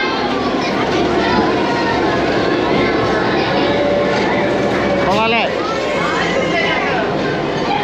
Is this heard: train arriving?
yes